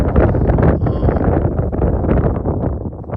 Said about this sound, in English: Super duper windy.